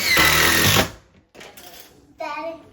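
A power drill drives screws into wall-mounted bookshelves, with one loud whirring burst at the start, then quieter rattling and a short, higher whine near the end, up close.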